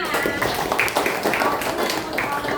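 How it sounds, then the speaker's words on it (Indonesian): A classroom of students claps their hands together at the teacher's prompt, a quick dense patter of close, uneven claps with some voices underneath. "tepuk tangan kita semua"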